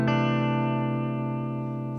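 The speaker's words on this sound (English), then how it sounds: "So I've got the amp here at about 3, treble 7, bass up, tiny bit of reverb, nothing else happening." An electric guitar through a Fender Deluxe tube amp with the treble high, bass up and a touch of reverb rings out as one sustained, loud chord that slowly decays across two seconds, alone and without voices.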